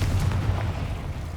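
A Confringo blasting spell going off in Hogwarts Legacy: a deep, rumbling explosive boom near and loud, decaying over about a second.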